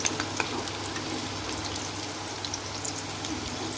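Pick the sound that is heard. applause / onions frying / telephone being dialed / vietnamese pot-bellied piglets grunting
onions frying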